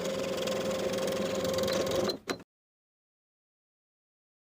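A sewing machine runs a line of edge stitching along fabric, a close, steady whirring hum for about two seconds that stops abruptly, followed by silence.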